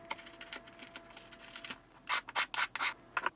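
A plywood kitchen cabinet corner is sanded into a taper, first as steady close scratchy rubbing, then as several louder, separate back-and-forth strokes near the end.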